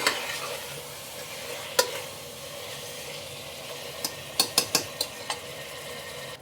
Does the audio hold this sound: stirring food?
yes